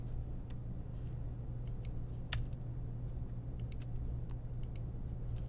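Fast, light keystrokes on a computer keyboard as code is typed, an irregular run of soft clicks over a steady low electrical hum.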